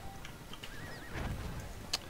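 A horse in the video game Battlefield 1 snorts and whinnies faintly, with a few soft hoof sounds, amid quiet game noise and no talking.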